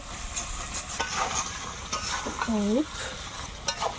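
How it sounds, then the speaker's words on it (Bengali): Duck meat curry sizzles in a pan while being stirred and scraped with a spatula in repeated strokes, close by, with a brief tonal squeak partway through. "কিছুক্ষণ নেড়ে চেড়ে কষিয়ে নিয়েছি"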